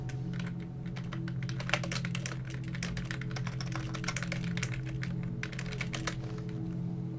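Rapid, steady typing on a computer keyboard, a dense run of light key clicks close by, continuing over a low background hum without talk.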